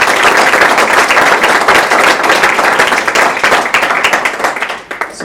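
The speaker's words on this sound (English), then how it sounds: "So can we give a round of applause?" Dense, sustained applause from a large audience at a summer enrichment program event, steady and loud throughout before thinning toward the end.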